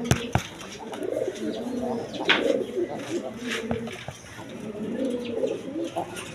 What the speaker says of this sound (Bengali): তো বিভিন্ন বিটের কবুতর আছে